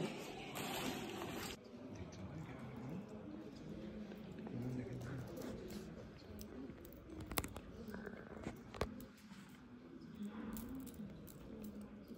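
Pigeons coo softly in low, repeated calls while being fed outdoors, over a constant background murmur, with a few sharp knocks and people talking quietly nearby.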